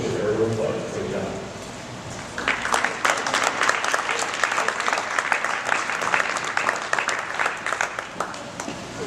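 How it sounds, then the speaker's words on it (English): Audience applause at a Cub Scout Blue & Gold banquet, dense clapping that swells after a few seconds of speech and holds steady, filling the room near the listener. "A big round of applause."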